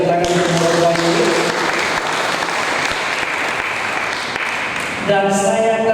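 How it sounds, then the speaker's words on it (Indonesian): An audience at a cultural gathering applauds the Morokwayut performers, a sustained wash of clapping hands, with a voice talking over it at the start and again as it winds down. "Boleh sekali lagi kita beri tepuk tangan untuk Morokwayut."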